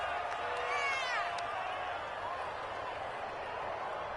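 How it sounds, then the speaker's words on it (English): A football stadium crowd reacts to a penalty call with a loud, sustained roar that stays steady throughout, with a few thin whistle-like tones rising above the broad noise. "this crowd does not like that call. Understandable reaction from them"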